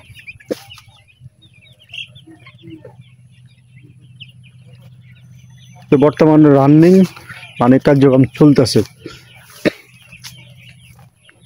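Hens and young chicks on a poultry farm with roadside sheds cluck and chirp in a loud burst of calls partway through, with faint talk and low background hum before and after.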